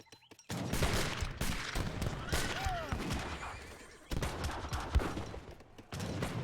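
Musket volleys in an Age of Empires 3 battle: dense crackling fusillades of massed gunfire in bursts, mixed with horses whinnying and hooves under the fighting.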